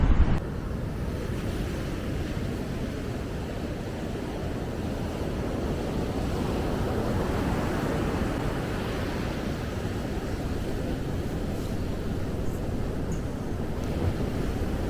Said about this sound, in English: Very windy. The waves are very choppy.